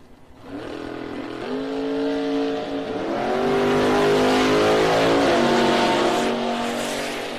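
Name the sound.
drag racing car accelerating down the strip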